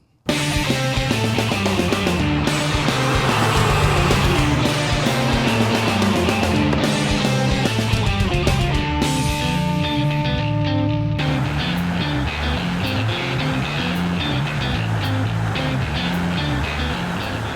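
A 2014 Campagna T-Rex 16S three-wheeled vehicle on the move, a loud sustained engine drone with steady tonal layers that climb and shift through the gears, with no talking over it.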